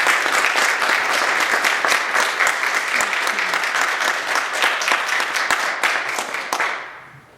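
A church congregation gives a sustained round of applause, dense and loud from the start, thinning and fading away near the end.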